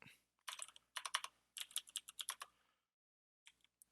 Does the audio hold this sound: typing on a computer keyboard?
yes